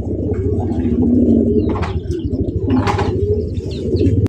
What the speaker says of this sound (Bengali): নরের ডাক দেখেন